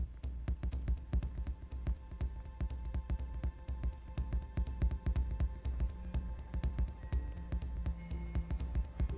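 Kid A drum beat playing inside the Kid A Mnesia video game exhibition, a steady, quick rhythmic pattern of dense percussive hits over a low throbbing bed, fairly faint and alone with no talking.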